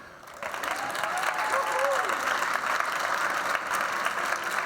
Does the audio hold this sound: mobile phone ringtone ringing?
no